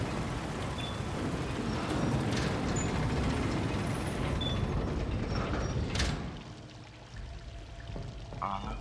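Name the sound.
turning a valve mechanism in Vampyr video game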